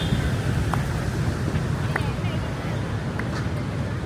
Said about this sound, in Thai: มีลมพัดเย็นบ่ได้ฮ้อน